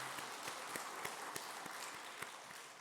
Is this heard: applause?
yes